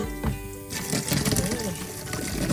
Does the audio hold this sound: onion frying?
no